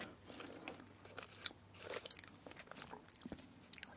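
Crunchy meringue cookies with chocolate chewed close to a microphone, a steady run of crisp bites and crackly crunching over four seconds, intimate and detailed with no talking.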